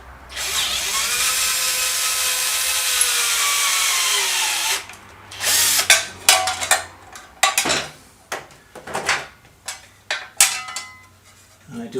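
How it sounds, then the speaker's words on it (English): A power drill with a small pointed bit whirs steadily for about five seconds, drilling a hole on a BM 250 trials motorcycle, then stops; a burst of clattering, knocking and handling noises follows, close and uneven. "the easiest way to do this is to just run the drill through"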